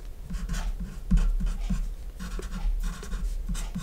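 Pen or marker scratching out a math term while working an integral, a run of quick, close strokes and taps in an uneven rhythm over a low background rumble.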